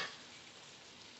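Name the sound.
pork frying in oil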